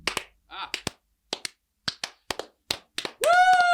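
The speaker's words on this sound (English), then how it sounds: "I think we deserve a round of applause" A few people clap in short, scattered bursts of sharp hand claps, close and dry, ending with a loud whoop of cheering.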